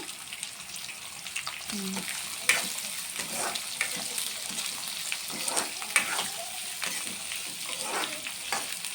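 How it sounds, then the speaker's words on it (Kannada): Sliced onions fry in hot oil for mango chitranna rice, giving a continuous close sizzle punctuated by frequent spoon scrapes and taps against the pan. "ಈರುಳ್ಳಿನ ಹಾಕ್ಬಿಟ್ಟು ಚೆನ್ನಾಗಿ ಫ್ರೈ ಮಾಡಬೇಕು ಅದು ಗೋಲ್ಡ್ ಕಲರ್ ಬರೋ ತನಕ ಫ್ರೈ ಮಾಡಿ"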